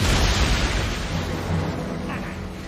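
A deep rumbling alchemy explosion from the anime Fullmetal Alchemist Brotherhood booms loudly at the start and then rolls and fades into a low, sustained roar.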